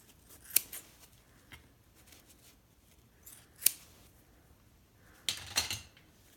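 Scissors snipping through a kitchen sponge to cut it in half: a few sharp, sparse close snips separated by quiet pauses, ending with a quick cluster of cuts.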